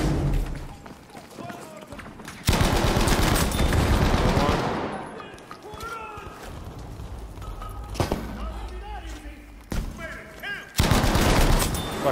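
Bren light machine gun firing in hardcore team deathmatch on an Iwo Jima map in a video game, loud bursts of automatic fire in two main stretches with quieter game noise and scattered talk between them.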